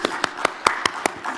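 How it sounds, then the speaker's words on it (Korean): A small audience claps to welcome a pastor at a university's end-of-semester chapel service, about seven sharp, evenly spaced claps in a brief rhythmic burst. "김지은 목사님 나오실 때 우리 모두 큰 박수로 환영하겠습니다"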